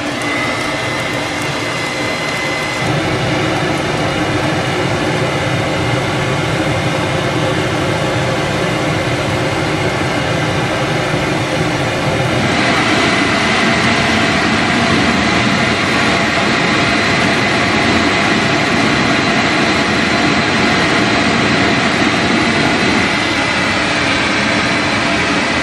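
A coal forge heats a knife blade, giving a loud, steady roaring rush that runs throughout and grows slightly brighter and fuller about halfway through.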